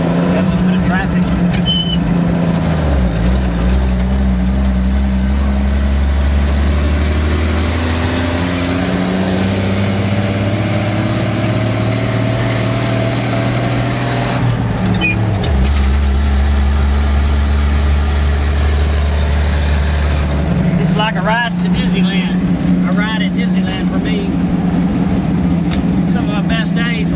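An old Chevy tow truck, a barn find, runs on the road with a loud, steady low engine drone that rises and falls through gear changes, close and continuous throughout.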